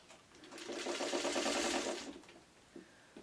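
Sewing machine stitching together quilt block pieces for an arrowhead block, a steady rapid whirring run of about a second and a half that stops, followed by a few faint handling clicks.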